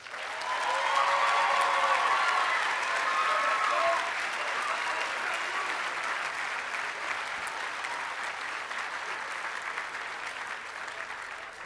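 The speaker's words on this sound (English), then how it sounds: "Let's give them another round of applause" A school graduation audience breaks into sustained clapping with some cheers and whistles early on, the dense applause holding steady before slowly tapering off.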